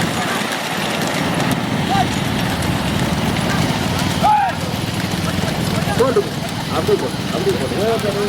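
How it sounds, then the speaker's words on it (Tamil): Hooves of racing horses in a rural race in Ramanathapuram district clatter beneath a steady wash of engine and crowd noise, while a commentator talks over the action. "ஓட்டி வருகின்ற சாதனை சுந்தரம் குதிரை மொழிய"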